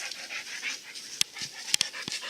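A dog pants rapidly and steadily close by, quick breathy rhythm with a few small clicks and whimpers, outdoors near a cabin in Livingston, Texas.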